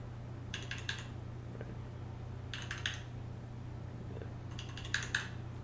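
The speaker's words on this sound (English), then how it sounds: "Typing's a little loud there." Keyboard typing comes in three short bursts of quick clicks, a few keystrokes each, over a steady low hum during a Final Fantasy XVI game stream, with no speech.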